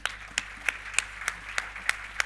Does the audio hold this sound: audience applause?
yes